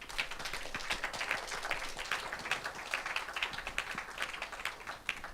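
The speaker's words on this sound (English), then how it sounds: "let's also give a round of applause to the whole team of Glyph and also the founders of the great idea." Scattered applause from a small audience at a Hong Kong PKI Forum event, distinct individual claps forming a light, uneven patter that continues steadily for several seconds.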